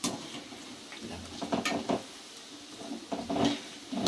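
Drumstick pieces frying in groundnut oil for pickle, with soft sizzling and occasional clinks and stirring scrapes of a utensil against the pan, close and fairly quiet.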